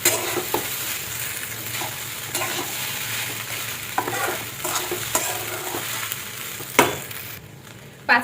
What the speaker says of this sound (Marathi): आता 5 मिनिटं शाबू असंच आपल्याला परतून घ्यायचं आहे.